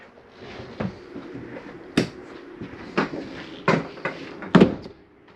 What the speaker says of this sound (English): Make sure your shower door is snapped closed for travel so this doesn't bounce open on you.